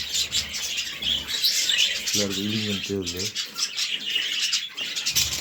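Pet birds chirping and tweeting indoors in a busy, continuous chatter, with a person speaking briefly over them.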